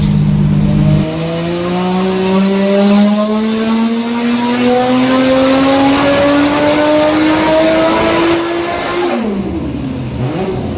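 Turbocharged Nissan RB30DET engine on a dyno running boosted, revving in one long loud sweep whose pitch climbs steadily for about eight seconds before cutting off abruptly and dropping back toward idle, heard up close with no talking.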